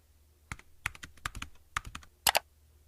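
Typing on a computer keyboard for a Schoology teacher tutorial, with a few scattered clicky keystrokes followed by a quick double tap, close and quiet with no talking.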